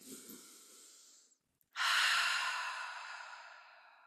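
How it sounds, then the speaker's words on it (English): A person breathes out audibly, pauses briefly, then draws a long deep breath that slowly fades, close and clear, with no speech. "just taking a breath and breathing in"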